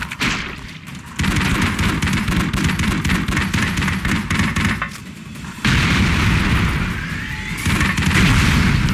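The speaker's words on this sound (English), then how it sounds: "I blew up the box" Explosions and gunfire from the Broforce video game, with a box being blown up, arrive as loud, dense, continuous booming blasts with a few brief gaps and no talk.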